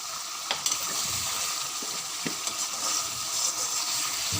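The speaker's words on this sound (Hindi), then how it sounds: "इसको 5 मिनट तक हाई फ्लेम पे अच्छे तरीके से भूनेंगे" Chicken karahi with cumin being fried over a high flame, a continuous soft crackling sizzle with occasional louder pops and faint stirring scrapes, no voices.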